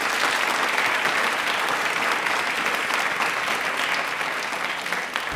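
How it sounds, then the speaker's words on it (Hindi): Audience applause fills a railway quiz programme, loud and steady throughout, a dense wash of many hands clapping without pause and with no voices over it. "तालियां एक बार जोरदार बजा लीजिए"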